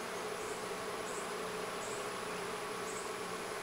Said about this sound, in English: there's a bee right there that is stressing out